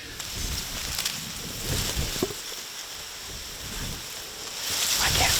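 Steady broadband wind rushing and buffeting outdoors during a whitetail deer hunt, with a gust building louder near the end and faint water-like noise underneath.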